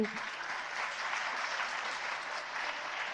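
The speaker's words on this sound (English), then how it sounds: "must give a huge round of applause to the children" A steady wash of applause from a crowd at a school education launch event, dense and even throughout, with no break in the clapping.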